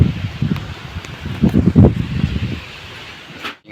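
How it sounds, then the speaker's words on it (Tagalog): Very strong typhoon wind gusting around a house, a dense roaring rush that swells and buffets continuously, peaking in the middle with heavy low rumble before briefly easing. "Sobrang lakas talaga ng hangin."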